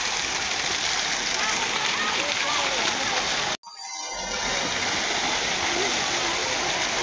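Rushing river water roars steadily and loudly in the open air, a dangerous stream with rain starting to fall; the broadband rush cuts out abruptly for a moment midway, then swells back to full strength.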